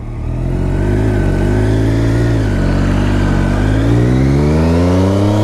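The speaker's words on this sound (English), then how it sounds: "My job is to show you guys that the bike runs good, what it sounds like, how it shifts good." A 2015 Triumph Daytona 675 sport bike revs hard on a test ride, the loud close engine note climbing, dipping briefly with a shift, then rising again, with no talking.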